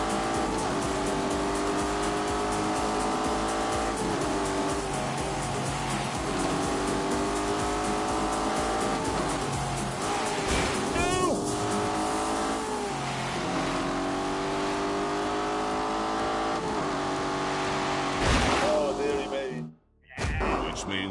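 A car engine drones and revs steadily at close range in The Grand Tour video game, with the drive system in snow mode and gear-shift dips, ending in a brief cutout; no one speaks.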